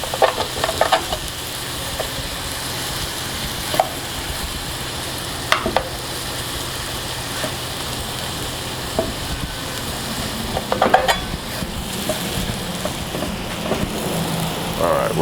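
Food sizzles and fries steadily in a Lodge carbon steel pan on a KampMate wood-burning camp stove outdoors, with a constant hiss broken by occasional sharp clicks and scrapes of stirring.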